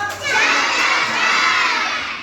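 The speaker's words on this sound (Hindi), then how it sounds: "शाबाश, जोरदार ताली बजाइए।" A classroom of children cheer and clap together, a loud, sustained burst of shouting and applause lasting about two seconds, near and dense.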